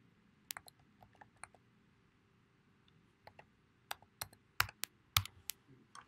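A password being typed on a computer keyboard: sparse, isolated key taps in a quiet room, faint at first and then growing more frequent and sharper toward the end.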